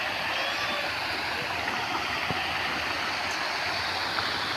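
A water fountain in Nandan Park near Chandura, Savar, makes a continuous rushing splash, steady and fairly loud, with no voices.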